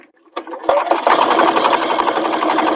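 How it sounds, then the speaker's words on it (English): A sewing machine stitches through a foam-padded bag, starting with a few clicks before settling into a loud, fast, steady mechanical whirr and rapid needle thumping up close. "it makes it a lot easier to sort of just sew right through"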